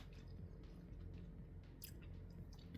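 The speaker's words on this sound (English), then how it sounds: "Let me just take a bite out of this one." Close, quiet bite and chewing of oven-baked pizza, soft wet squishing mastication with a faint crunch in the middle, no talking over it.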